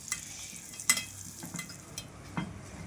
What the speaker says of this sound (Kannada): ಈಗ ದ್ರಾಕ್ಷಿ ಹಾಕ್ತೀನಿ.